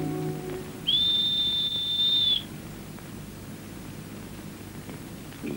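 A single shrill whistle is blown once, a steady high tone lasting about a second and a half, loud over low background noise.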